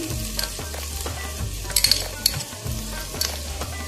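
A spoon scrapes and clinks against a pan as thick ginger garlic paste sizzles and fries with onions underneath, stirred in bursts over steady crackling.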